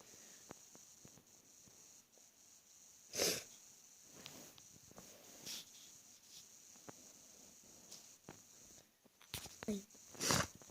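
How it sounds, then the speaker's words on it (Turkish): A person sniffs their nose several times in short, sharp bursts against a quiet room, with faint rustling between the sniffs. "şu an burnumu çekmek özür dilerim"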